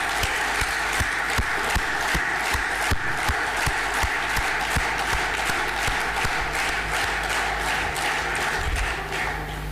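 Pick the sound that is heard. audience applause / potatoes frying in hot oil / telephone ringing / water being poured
audience applause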